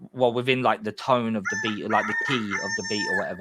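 A phone notification tone imitating a rooster crowing rings out briefly, partly overlapping a person talking nearby.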